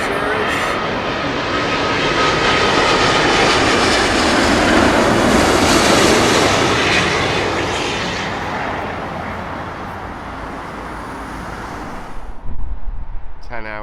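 A Virgin Atlantic Airbus A350-1000 arriving at London Heathrow from JFK gives a broad jet roar that swells to a loud peak midway, then fades, with a brief clatter near the end.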